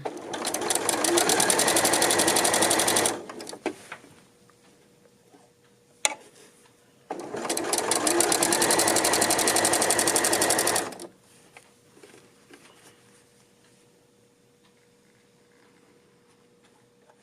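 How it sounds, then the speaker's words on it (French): A sewing machine stitches dolman sweater fabric in two rapid, even mechanical runs of about three seconds each, separated by a pause with a small click, then quiet. "je suis prête à coudre"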